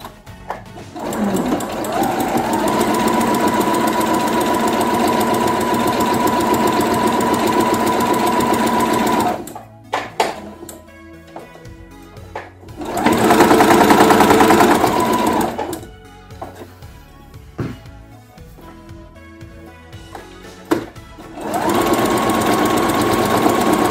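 A sewing machine stitches fabric for a grocery bag dispenser in long, steady loud runs, pausing between bursts with quiet handling noises before each run starts again.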